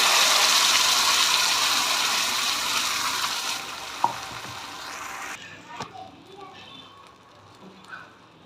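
Loud, dense sizzling of ground paste frying in hot oil for paneer gravy fills the first few seconds, then drops away to quieter crackles and a few clinks.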